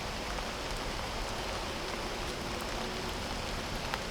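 Rain falling steadily outdoors in the woods near a hunting stand, a soft, even hiss of drops with no breaks, fairly quiet and continuous.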